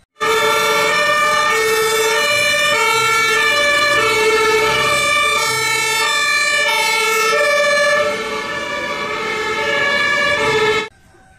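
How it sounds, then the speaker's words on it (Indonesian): A toy fire truck's electronic siren wails loudly and steadily close by, a repeating tonal cycle that runs for about ten seconds before cutting off abruptly. "Ini adalah truk pemadam."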